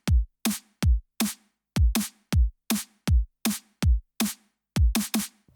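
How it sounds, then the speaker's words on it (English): Kick and snare drum pattern in a four-to-the-floor groove, switching up on the last beat of every two bars, built for a remix; roughly a dozen punchy, evenly spaced hits play alone, loud and dry. "So the kick and the snare sounds like this."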